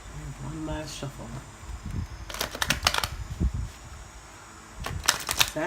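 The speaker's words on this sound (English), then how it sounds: "And one last shuffle." A deck of tarot cards is shuffled in two quick bursts of crisp riffling and flicking, close and moderately loud, after a stretch of quieter handling at the start.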